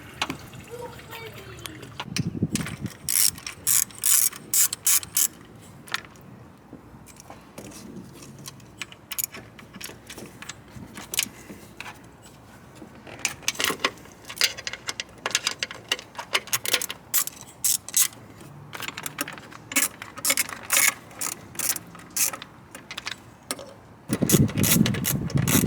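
Ratchet loosening the cover bolts on a 2001 Lexus LS430 engine, repeated bursts of rapid close clicking in several runs with pauses, interspersed with someone talking.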